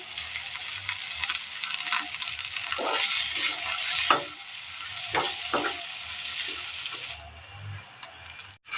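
A Mezhukkuperatti vegetable stir-fry with curry leaves is stirred in a pan, a steady sizzle broken by a few sharp scrapes and clatters of the spoon, close and alone with no voices.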